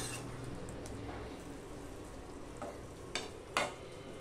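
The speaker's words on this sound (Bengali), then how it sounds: "ঘি, গরম মশলা, মিষ্টি সব আমি ভালো করে মিশিয়ে দিলাম" Ghee, garam masala and sugar being stirred into a chicken curry in a pot: a soft, steady scrape and simmer with a couple of sharper spoon clacks near the end, quiet and without talk.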